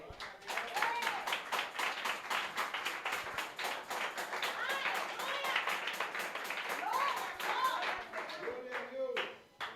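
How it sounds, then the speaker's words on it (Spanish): Church congregation clapping during a sermon, fast rhythmic claps in a steady beat with voices calling out over them, lively and continuous before tapering off near the end. "Dale un aplauso a Dios."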